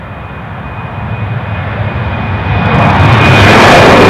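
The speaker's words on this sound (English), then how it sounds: "we'll wait for the sound of the engines to pass" Ryanair jet airliner engines roar past in the rain at Newcastle airport, a steady broadband rumble that swells louder toward the end as the aircraft draws nearer, with no voices.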